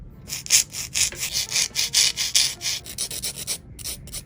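Polygel nails being reshaped with a nail file, a rapid rhythmic back-and-forth rasping of about a dozen close, bright strokes, with a brief pause near the end and no voices.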